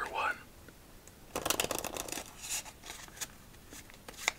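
A deck of playing cards being shuffled close up, a quiet pause and then a series of crisp riffling bursts and soft flicks, with no talking.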